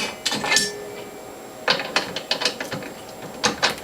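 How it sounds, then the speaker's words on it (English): Metal cutter blade being fitted into a juicer, giving clusters of short clicking, ratcheting mechanical clatter with brief pauses between bursts. "install the near zero blowback cutter that has over 80 teeth cut into the cutter blades"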